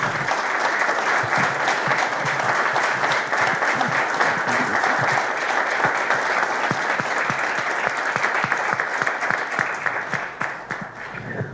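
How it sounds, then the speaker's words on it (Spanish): Sustained applause from an audience at a talk on Argentina's geopolitical situation, dense and steady throughout before tapering slightly near the end, with no speech over it. "Un aplauso para estos dos."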